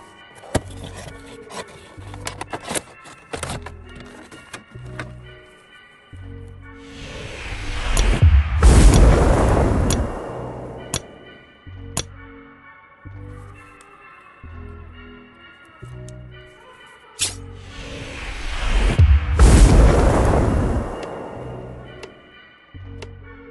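A small Funko mini Stay Puft Marshmallow Man figure from Ghostbusters: Afterlife is set alight with a lighter, giving two loud bursts of rushing, hissing flame a few seconds each, separated by quieter tapping and handling noises.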